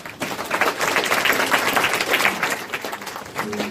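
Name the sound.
welcoming applause for forum panelists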